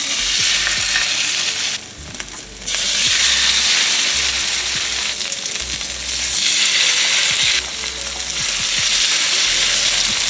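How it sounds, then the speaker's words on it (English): Salmon fillet searing skin side down in a hot pan, a steady loud sizzle and crackle running throughout with a couple of brief dips in intensity, no voices. "And we're just going to add our salmon in. We just want to sear this for a few minutes."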